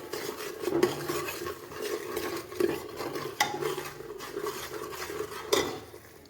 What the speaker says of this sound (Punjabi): ਹਲਦੀ ਪਾਊਡਰ ਲਿਆ ਹੈ ਗਰਮ ਮਸਾਲਾ ਲਿਆ ਹੈ ਜਿਸ ਵਿੱਚ ਸੁੱਕਾ ਧਨੀਆ ਵੀ ਐਡ ਹੈ ਇਹਨਾਂ ਨੂੰ ਚੰਗੀ ਤਰ੍ਹਾਂ ਮਿਕਸ ਕਰਾਂਗੇ